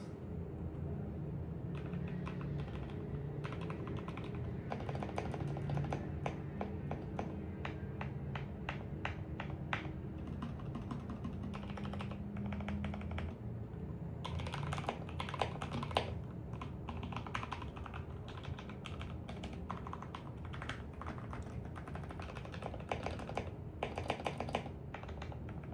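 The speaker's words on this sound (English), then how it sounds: "Yeah, I really like the sound. It changed significantly from the stock sound." Steady typing on a modded Keychron K4 V1 mechanical keyboard, a dense continuous stream of close, crisp key clacks with occasional louder bursts, heard alone.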